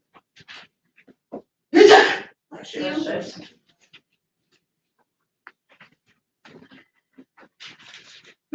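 A single sharp sneeze near the microphone in a quiet synagogue during Shabbat services, followed by soft breathing and faint shuffling.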